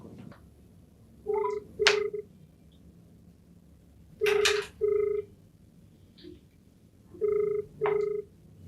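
A telephone rings out in three repeated pairs of electronic bursts, evenly spaced and fairly loud against a quiet background, with no talking over it.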